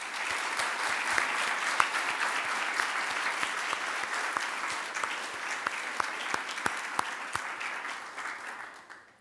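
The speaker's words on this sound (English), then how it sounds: "I would like to give her a great round of applause" Sustained applause from an audience at a public service awards ceremony honoring a long-serving recipient, dense steady clapping with sharp individual claps standing out, gradually fading toward the end.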